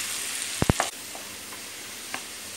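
Chopped onion pieces fry in hot oil with chilli and cumin for a mutton curry, a faint steady sizzle broken by a quick cluster of spoon knocks and scrapes against the pan, close by.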